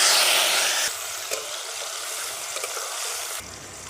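Tomatoes frying in a pan with cardamom, cloves, cinnamon and cumin give a close, loud sizzle that drops in level partway through, with light stirring scrapes and no talking.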